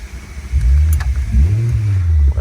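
A car built in Fast and Furious style revs hard up close, its engine surging in loud rising and falling pulls with a deep, rumbling tone.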